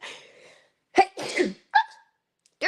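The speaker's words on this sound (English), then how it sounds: "I want to sneeze." A person sneezes indoors, a sharp, explosive burst after a short inhaled buildup, followed by a quick second burst and faint breathing, close and loud.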